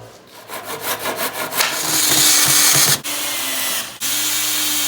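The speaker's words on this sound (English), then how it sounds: "So right now we're cutting these into 14-inch long planks" A power saw cuts 2x4 lumber into 14-inch planks for a ski and snowboard rail, starting with rhythmic rasping strokes that blend into a loud, continuous whining cut, briefly interrupted twice as the blade passes through.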